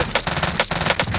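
Rapid automatic gunfire from an enemy's weapon in Call of Duty Warzone, a quick burst of loud, closely spaced shots.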